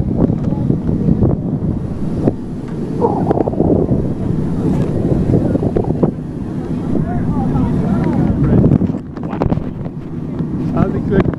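Cold wind blows hard outdoors at about nine degrees, roaring and buffeting the microphone in continuous loud gusts for the whole stretch, with muffled voices faintly mixed in.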